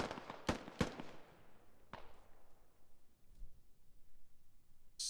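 Gunfire in the military shooter game Squad: a few sharp cracks early on, then a single distant shot with a fading tail, faint against quiet background ambience.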